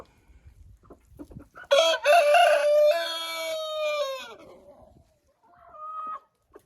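Chickens in a backyard coop with nesting boxes and feeders: a rooster crows loudly and close, one long drawn-out call trailing off, followed by a hen's brief clucks and squawks in an otherwise quiet space.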